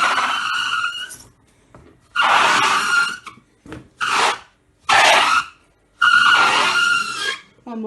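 Hot water bottle rubbed across a smooth kitchen counter to mimic a car tire screech, heard as several separate squealing bursts of about a second each, loud and close, separated by short pauses.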